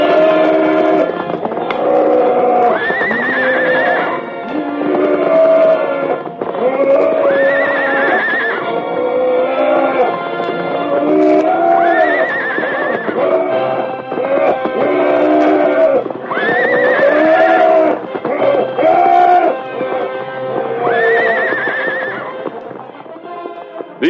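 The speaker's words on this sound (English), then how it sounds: "filled with bellows and whinnies of rage and defiance" Horse whinnies and neighs mixed with bellowing from a fighting buffalo in an old radio drama, repeated loud close cries in rising and falling bursts over a continuous background.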